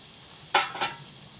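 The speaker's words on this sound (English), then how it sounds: "Let him fry up for a few seconds too." Food dropped into a pan of hot oil at an outdoor cookout hisses in two sharp bursts close by, then fades to a low background sizzle.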